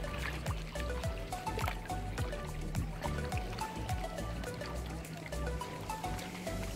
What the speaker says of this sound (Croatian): I sad ću vam malo snimiti more.